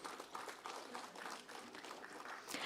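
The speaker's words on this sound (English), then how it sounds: "let's please welcome sir with a huge round of applause" A conference audience at an AI summit event gives a speaker a welcoming round of applause on stage, faint, steady clapping from a moderate-sized crowd heard at a distance.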